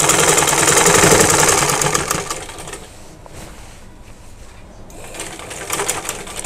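A sewing machine stitching the side slit of a kameez runs loud and fast, then quiets to a lower hum for a few seconds before the stitching picks up again near the end.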